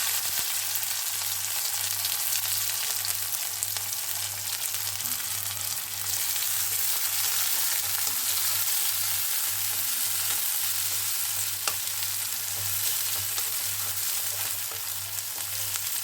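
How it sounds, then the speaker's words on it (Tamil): Chopped onions frying in hot oil with popping mustard seeds and cumin, a steady close sizzle with a low constant hum underneath and no talking. "இப்போது கட் பண்ணி வச்சுருக்கிற வெங்காயத்தை இதில் போடுறேன்."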